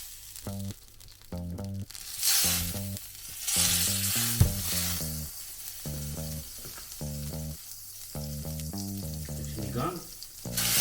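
Pork sinigang is set on a hot sizzling plate with butter, hissing loudly and steadily up close while background music plays throughout.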